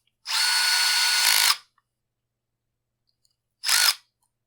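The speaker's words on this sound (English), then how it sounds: "And then we're gonna start running some screws in." A power drill whirs steadily for over a second, stops, then gives a short second burst after a pause, driving screws into the plastic housing of a Husqvarna 460 chainsaw.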